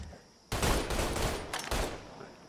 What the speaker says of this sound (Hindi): ओह यहाँ पे प्रैक्टिस चल रही है, गन प्रैक्टिस।